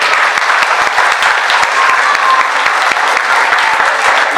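Audience applause at a school annual function, a steady dense clapping from a large crowd that carries on at an even volume for the whole stretch, with no speech over it.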